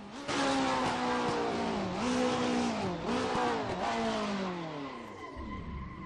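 Racing car in a sim racing video game downshifting under engine braking, loud engine revs stepping down through gears with harmonic sweeps, tires squealing as the wheels lock, fading at the end.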